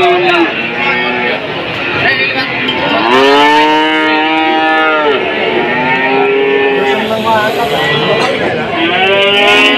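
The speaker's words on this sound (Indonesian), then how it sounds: "suasana pasar sapi Tuban hari ini" Cows moo repeatedly at a busy cattle market in Tuban, with several loud, long drawn-out calls rising and falling close by over a constant crowd murmur.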